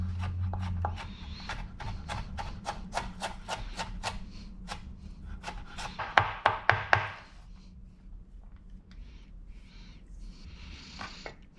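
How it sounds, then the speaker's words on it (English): A knife slices fresh ginger into strips on a cutting board in a home kitchen, a steady run of crisp, evenly spaced taps up close, quickening into a few louder chops before trailing off into quieter handling. "Then you want to slice it into strips."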